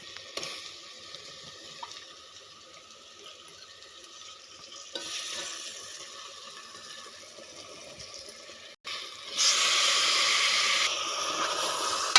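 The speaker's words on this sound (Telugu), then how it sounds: "ఇప్పుడు ముందుగా మనం కడిగి పెట్టుకునే మటన్ వేసుకుందాం" Mutton pieces go into a frying pan of cooked-down tomatoes and chili powder and are stirred, with a moderate hiss that surges into a louder, steamy sizzle toward the end.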